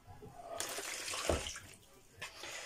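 Kitchen tap water runs in bursts as cold and hot are mixed, a close splashing rush that swells, eases and briefly returns.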